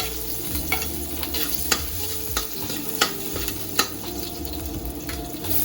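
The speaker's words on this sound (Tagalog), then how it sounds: "Yan at magigisa na po." Ingredients sauté in a pan for native chicken tinola, a constant loud sizzle with a spatula knocking and scraping the pan every second or so, close up.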